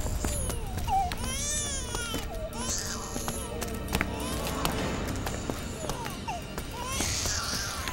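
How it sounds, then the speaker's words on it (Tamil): An infant crying from down inside a well, with repeated wailing cries rising and falling amid clattering noises and some background voices. "இது குழந்தை அழுகிற சவுண்ட் கேக்குதுடா."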